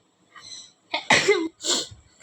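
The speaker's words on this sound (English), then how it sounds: "Sorry for that sneeze." A person sneezes during a crochet lesson: a brief inhaled build-up followed by two sharp, close, explosive bursts in quick succession.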